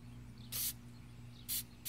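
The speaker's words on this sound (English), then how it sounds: "It's like aerosolized silicone. So watch this. Let me spray it real quick." Two short hissing bursts from an aerosol silicone spray can, close and fairly loud, separated by about a second over a low steady hum.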